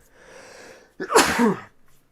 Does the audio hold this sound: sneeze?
yes